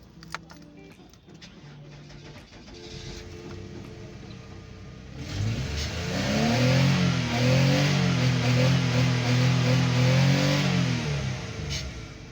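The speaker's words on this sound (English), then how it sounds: "So let's start the vehicle." A Nissan Murano with a rough idle and a P0335 code fires up after quiet clicking, then a loud, steady engine drone settles in with rising and falling revs, heard alone at close range.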